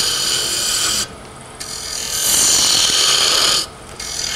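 A spindle roughing gouge cuts a cove into a small wood twig pot spinning on a lathe, giving a steady hissing, scraping whir that drops away briefly twice as the tool lifts off, then resumes close and loud.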